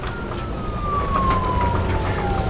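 A police car siren from the game Nobody Wants to Die wails in a long falling tone over a steady engine rumble, loud and close.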